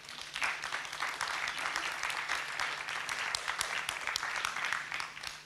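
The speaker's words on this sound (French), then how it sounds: "Je vous laisse applaudir." A conference audience on the future of Europe applauds in a dense, steady burst of many hands clapping, filling the room for several seconds with no talk over it.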